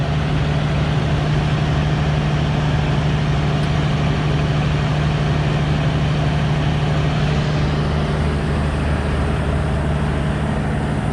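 White 8700 combine with a full hopper and a bad head gasket runs at a steady idle, a loud, continuous low diesel drone with a strong even hum, close up, no speech.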